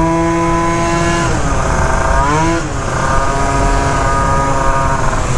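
Scooter with a Minarelli engine and Phantom F12 upgraded gears riding, its two-stroke engine whining loud and close, pitch climbing through a gear change and rising again steadily.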